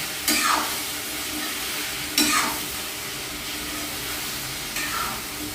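Masala fries in a pan with a steady hiss, broken by three louder bursts of stirring and scraping spaced a couple of seconds apart, close by and with no talk.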